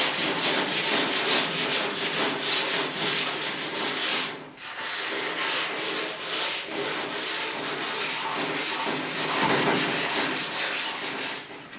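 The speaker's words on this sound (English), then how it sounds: "we just want the primer to be kind of sanded" Steady, close-up rhythmic scratching of sanding primer on a car door of a 1956 Mercury project, quick back-and-forth strokes continuing throughout with one brief pause, no talking.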